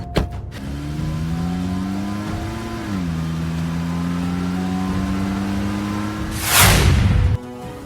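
A car in a Tamil television drama serial: a steady humming engine tone that shifts pitch slightly partway through, then a brief louder surge of engine noise near the end before it stops.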